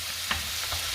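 Mixed seafood seasoned with salt and pepper frying in a pan, a steady bright sizzle with faint stirring scrapes, close and continuous.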